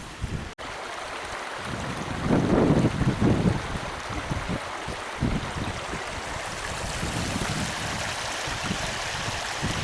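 A stream of water crossed on foot on a chilly day near Ben Alder Bothy in the Scottish Highlands: a steady rushing flow with wind, rising into louder splashing bursts for a second or two, then settling back.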